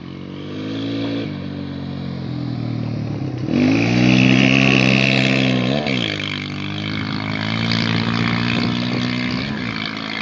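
Honda TRX400EX four-stroke quad engine running steadily and loud up close, with a surge of revving partway through before settling back to a strong idle-like drone.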